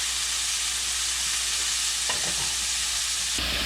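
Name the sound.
butter melting in a saucepan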